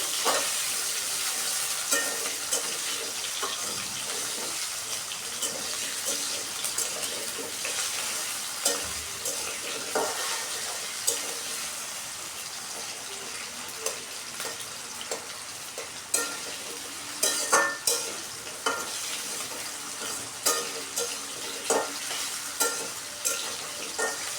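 Raw jackfruit curry with potatoes cooks in plenty of oil, sizzling and spitting up close while a spoon stirs and scrapes the pan, the clatter growing sharper and more frequent toward the end.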